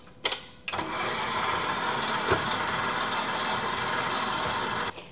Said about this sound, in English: I'm going to throw all of this in the mixer and let it get on with it.